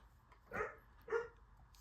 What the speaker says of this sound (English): you can hear puppies playing in the other room